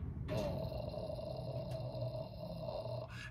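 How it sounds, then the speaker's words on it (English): A singing teacher demonstrating vocal fry, a low creaky rattling tone held steadily for about three seconds, close and fairly quiet. "The fry tones are the ones that sound like this."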